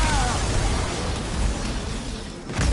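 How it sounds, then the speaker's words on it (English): Grenade blasts in the Star Wars Jedi Survivor video game, a dense rumbling roar of game combat noise that fills the whole moment, with a brief dip near the end before the rumble surges back. "As we try to throw the grenades back at the ATV."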